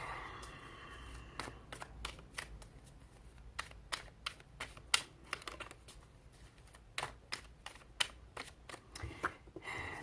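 Tarot cards being shuffled close by, a series of quick crisp riffling bursts and taps in an irregular rhythm against a quiet indoor background.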